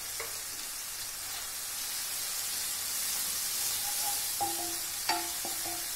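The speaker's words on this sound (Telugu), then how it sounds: "బాగా బ్రౌన్గా వచ్చేటట్టు వేయించుకుందాము" Garlic and turmeric frying in oil make a steady soft sizzle that stays constant throughout, with a few faint clinks of a utensil near the end.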